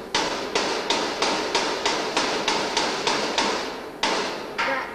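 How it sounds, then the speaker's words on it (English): A hammer strikes metal in a steady series of ringing taps, about a dozen evenly spaced blows, close and clear with no talking. "get my hammer now and tap that"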